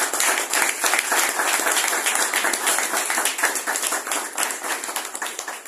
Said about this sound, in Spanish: yo les pido que demos un merecido aplauso de reconocimiento